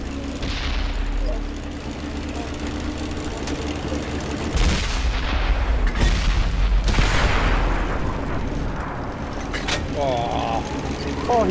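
A tank cannon in a video game fires heavy booming shots that land loud over a constant low engine rumble, with people talking throughout.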